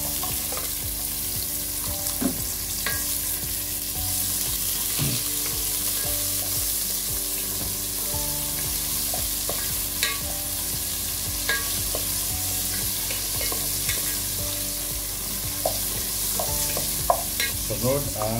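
Onions fry in a pan with a continuous sizzle while a utensil scrapes and stirs through them at irregular intervals, close and steady.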